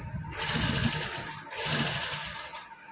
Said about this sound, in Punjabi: ਇਦਾਂ ਇਹਦੇ ਉੱਪਰ ਦੀ ਸਲਾਈ ਲਗਾ ਦਾਂਗੇ